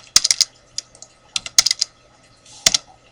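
Close computer keyboard typing in quick clusters of sharp clicks, several short bursts separated by pauses, with no talking.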